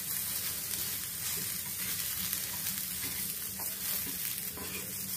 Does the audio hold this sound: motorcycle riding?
no